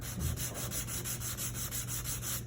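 Rhythmic back-and-forth sanding of the wooden back bracing of a ukulele, a steady scratchy rubbing repeated in quick even strokes, close and moderately quiet.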